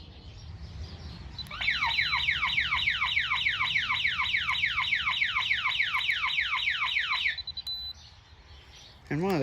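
DSC security alarm panic mode sounding outdoors: a loud, rapid rising-falling electronic siren warble that repeats steadily for about six seconds and then cuts off, with low wind rumble beneath.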